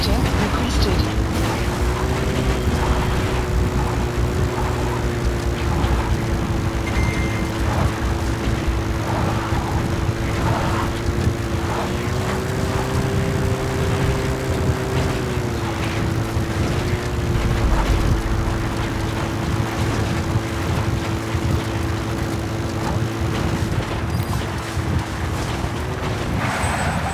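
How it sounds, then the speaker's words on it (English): A support helicopter arriving in Metal Gear Solid V: The Phantom Pain, a steady droning rotor and engine hum throughout, loud and constant, mixed with other game noise. "Support helicopter requested."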